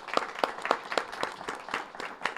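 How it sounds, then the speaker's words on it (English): A round of applause for a speaker at a suburban planning talk series, with distinct claps repeating in a loose, even rhythm, moderately loud and fairly close. "A big round of applause for Matt."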